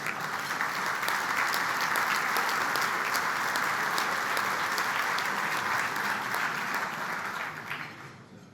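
An audience claps at a business luncheon with the country's president, a steady, full round of dense applause lasting several seconds before tapering off at the end.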